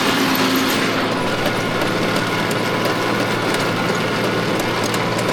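A Japanese mini tractor engine, freshly overhauled, runs in a steady, loud, continuous drone with no change in pace and no voices over it.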